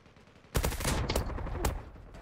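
Gunfire in the online shooter Zula: loud, close, sharp bursts of rapid shots in quick succession, with a brief pause between volleys, over a short stretch.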